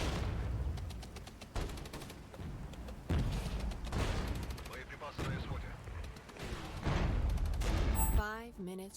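Anti-tank guided missile fire in the military strategy game Regiments: a series of sharp booming blasts and crackling bursts at irregular intervals, ending with a brief chirping electronic tone.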